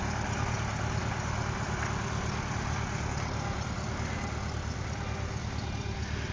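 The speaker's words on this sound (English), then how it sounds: "My honey going for a drive on the tractor." A tractor engine idles and runs steadily on a farm on a nice day, a continuous low rumble close by with no talk over it.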